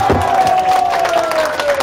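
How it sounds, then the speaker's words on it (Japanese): Concert crowd cheering and applauding for a band member at a live rock show, a loud wash of voices and claps with a sustained feedback-like tone ringing above it. "すげえでかい拍手を送ってやってほしい"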